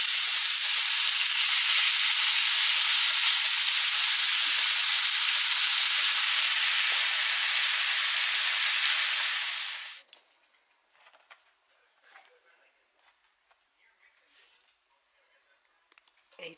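Loud, steady sizzling of marinated meat for shoarma frying in a hot pan fills the first half, then cuts off abruptly, leaving near silence with a few faint clinks.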